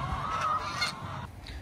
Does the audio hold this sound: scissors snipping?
no